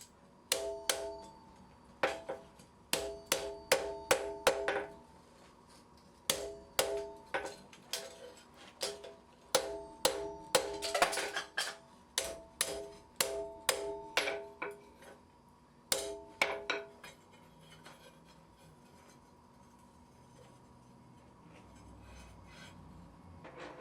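Rhythmic ringing hammer blows on hot iron, forging a hinge joint for fireplace tongs, come in quick groups of strikes with short pauses between, bright and clanging, then fading to quiet near the end.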